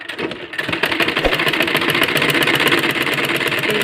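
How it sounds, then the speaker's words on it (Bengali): A sewing machine stitches a fabric flower onto a ribbon, its rapid, even needle chatter running continuously and close after a brief start-up. "এই যে দেখুন, আমরা এইভাবে সেলাই করে নিচ্ছি।"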